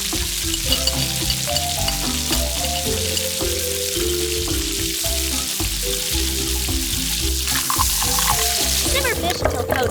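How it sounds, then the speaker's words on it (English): Fish fried with garlic and chili sizzles loudly and steadily in a pan in a miniature kitchen, with stirring scrapes throughout and a brief clatter near the end. "Add fried fish into pan."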